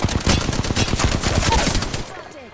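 Rapid gunfire in the Apex Legends video game, dense bursts of shots crackling steadily for about two seconds before fading out.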